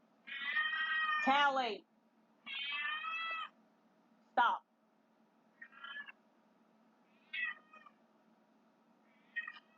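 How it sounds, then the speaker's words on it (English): A house cat meows several times in drawn-out, wavering cries with short pauses between them, the later calls shorter and fainter. A person speaks briefly between the meows. "I better go take care of that cat."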